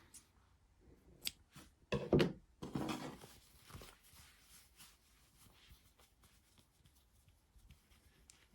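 Scissors snip embroidery thread during crochet work on a small amigurumi, with a few soft close clicks and one louder crisp cut among quiet handling rustles.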